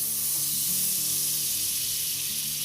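A steady, loud sizzle of a cheese sandwich frying in butter on a hot tawa, a continuous close hiss with no voices over it.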